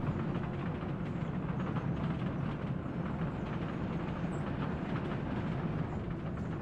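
Steady rumbling rail traffic from trams in Workers & Resources: Soviet Republic, a dense continuous low rolling drone with no clear start or end, heard alone at constant loudness.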